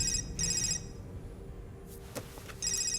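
A telephone rings in two short bursts separated by a quiet gap, set against a low background hum.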